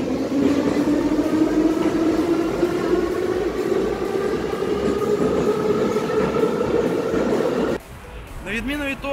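A subway train riding through the metro, a loud continuous rumble and rising whine of wheels on rails with clattering from close by, then the roar drops away abruptly near the end as the train slows and rattles.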